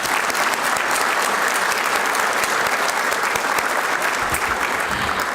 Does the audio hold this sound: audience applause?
yes